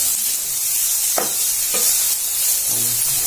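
Carrots and vegetables for momo filling stir-fry in a pan with a steady bright sizzle, punctuated by a few soft scrapes of stirring, close by and without speech.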